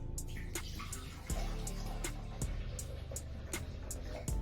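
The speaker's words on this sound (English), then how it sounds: "I'm starting off with about 10 ounces of apple juice" Apple juice, about ten ounces, pours steadily into a blender for a mixed berry smoothie, a soft continuous liquid trickle with a few light clinks, close by and fairly quiet.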